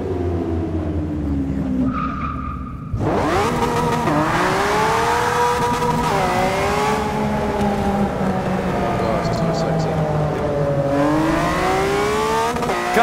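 Car engine revving hard in Forza 6, a loud sustained roar that rises and falls through several sweeps with tire skidding, starting after a quieter moment near the start, while people talk over it.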